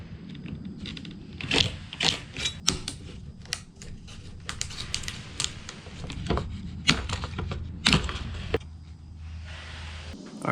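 Tin snips cut a soffit plank for a tongue-and-groove under-deck ceiling in a string of sharp clicking snips, some louder than others, against a low background hum.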